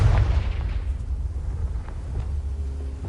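A Confringo fire spell explodes in Hogwarts Legacy, a loud boom with a heavy low rumble that opens the moment and then tails off into a sustained roar lasting a few seconds.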